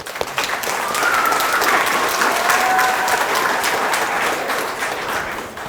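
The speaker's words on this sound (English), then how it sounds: "Round of applause for Ivani." Sustained applause from the audience at a 6th grade school graduation ceremony, a dense, loud crowd clapping for a graduate that swells and holds steady for several seconds before tapering slightly.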